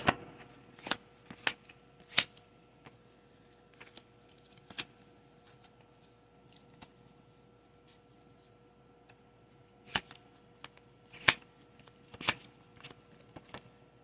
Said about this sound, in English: pull some Oracle of the Fairy cards.